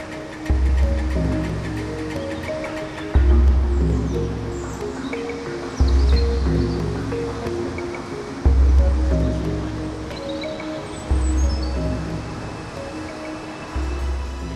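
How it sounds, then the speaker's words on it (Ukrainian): Mediterranean Sea waves in Israel crash into rocky gorges in repeated heavy surges every few seconds, each swelling loudly then washing back into a churning roar, with faint bird calls above. "спостерігати за хвилями, що стрімко вриваються в ущелини"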